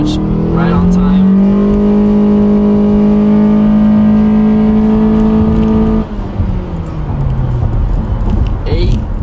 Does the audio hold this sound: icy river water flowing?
no